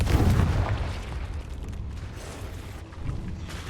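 A Confringo blasting spell from Hogwarts Legacy bursts with a deep boom at the start, followed by a rumbling, crackling tail and a second softer burst, moderately loud inside a cave.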